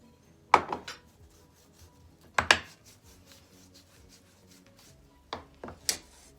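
Hands rub a dry spice mix into raw BBQ pork ribs, a few short scraping and rubbing bursts separated by quiet pauses, close and soft with no talk.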